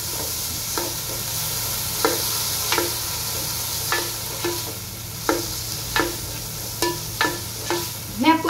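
Chopped capsicum with a little salt is stirred in a hot pan for Mumbai street pav bhaji, a spatula scraping in a steady run of sharp strokes over a continuous close sizzle.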